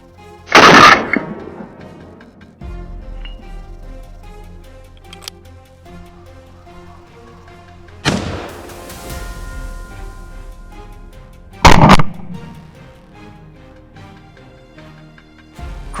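Three sharp bursts of gunfire ring out during a wild boar hunt near a cornfield, separated by long quiet gaps with faint background ambience; the first burst is the longest.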